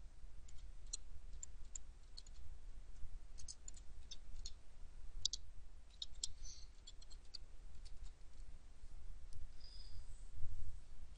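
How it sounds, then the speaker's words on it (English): Faint, scattered clicks of a computer mouse and keyboard keys tapping irregularly at a desk, with quiet low background hum and no talking. "Just click on where the text is and then backspace. And then type in whatever name you want."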